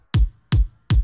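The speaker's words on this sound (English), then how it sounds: "The one is the Cashmere kick, acoustic kick 8, clean from one of the packs" Cashmere acoustic kick 8, a clean acoustic kick drum sample with its low frequencies cut away, struck three times in an even rhythm, each hit a short, punchy thump with a bright attack, loud and alone.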